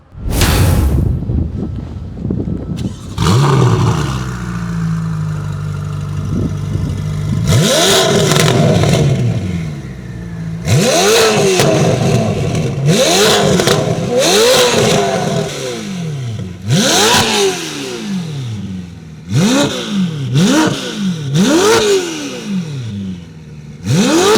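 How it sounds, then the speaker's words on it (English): A Ferrari F8 Spider with a valved IPE full exhaust and high-flow cats revs hard again and again, each burst rising and falling in pitch with a raspy exhaust roar, separated by brief lulls. "you guys can hear some sound clips of the IPE full exhaust with the high flow cats"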